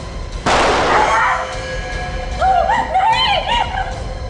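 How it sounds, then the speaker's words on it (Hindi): A single loud gunshot cracks out and rings briefly, followed by tonal whooping sounds in the background. "मेरे एक आदमी ने उसका पीछा किया और उस पर गोली चलाई।"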